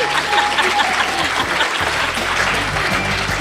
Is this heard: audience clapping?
yes